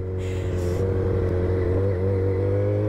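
A 125 cc motorcycle accelerates steadily while overtaking on a long straight, its engine note loud and close with a rising, sustained drone throughout.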